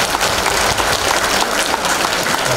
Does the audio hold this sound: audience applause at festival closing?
yes